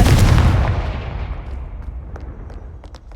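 A spell blast in Hogwarts Legacy, a loud booming burst at the start that decays into a rumbling tail, with faint crackling debris afterward.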